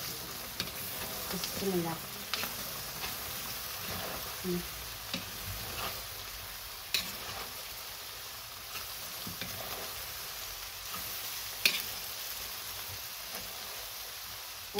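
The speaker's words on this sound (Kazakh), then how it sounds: "Енді осыны бір 5 минуттай пиязымызды қуырып аламыз." Onions and red pepper frying in a pan over medium heat, a steady low sizzle with occasional utensil taps and stirring clicks, while a person speaks briefly.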